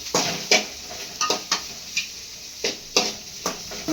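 Onions tipped into a hot pan and stirred for a mint and tender-coconut chutney, sizzling under repeated clinks and scrapes of a spoon against the pan at an uneven rhythm, close and fairly loud.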